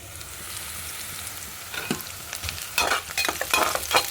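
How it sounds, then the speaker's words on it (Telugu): Green chilies and onions sizzle in a pan for a drumstick and tomato curry. The sizzle starts soft, then grows livelier as stirring scrapes break in near the end, with no talking. "పచ్చిమిర్చి ఉల్లిపాయ వేస్తున్నాయి ఇందులో మునక్కాయలు కూడా వేస్తున్నాం"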